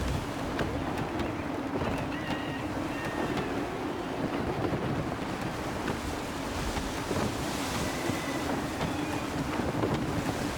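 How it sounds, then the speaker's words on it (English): Steady gusting wind and rushing water around a sailing ship in Assassin's Creed 3, a continuous windy roar with the wash of waves and faint creaks, no voices. "Gusty winds can be difficult to manage."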